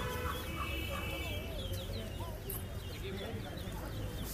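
Chickens cluck in a steady, busy farmyard din at a market where birds are sold in pairs, with people talking over the noise and occasional sharper bird calls rising through it.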